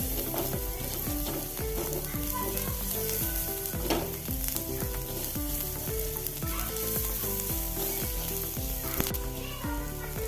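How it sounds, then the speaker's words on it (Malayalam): Rice tadka seasoning with curry leaves and salt sizzles steadily in a pan while being mixed, a continuous close frying crackle running under tonal background music throughout. "ഉപ്പിട്ട് നല്ലപോലെ ഒന്ന് മിക്സ് ചെയ്യുക"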